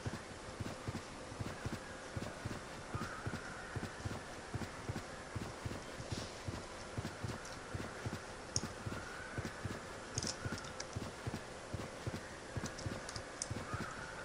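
Horse hooves clip-clop in a steady, even rhythm as a mount is ridden cross-country in the video game Everquest 2, moderately quiet and continuous.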